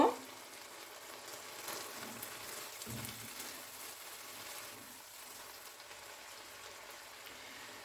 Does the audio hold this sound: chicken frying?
yes